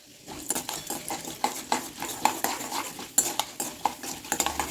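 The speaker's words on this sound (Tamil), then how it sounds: "இப்போ இதை வந்து நம்ம நல்லா பொரிய விட்டுருவோம்." Fenugreek seeds, chana dal and chilli fry in oil while a spoon stirs and scrapes the pan in a string of sharp clinks over a soft sizzle, close and moderately loud.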